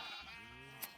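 Sheep bleat in Minecraft, a single quavering blocky-game cry filling the short moment, fairly clear and unaccompanied by talk.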